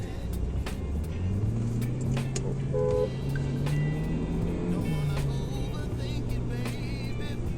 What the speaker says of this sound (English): So there you can see how even in first gear, the car just effortlessly pulls.